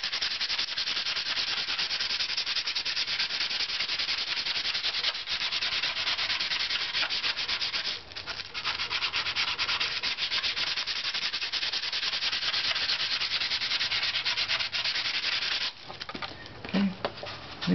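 Dutch rush rubbed on the inside of a violin top plate, a continuous dry scratchy sanding sound with steady back-and-forth strokes and brief pauses, close and fairly loud.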